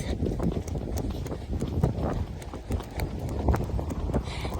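A horse's hooves clip-clop steadily at a trot while out hacking, a close rhythmic beat over rustling and wind noise.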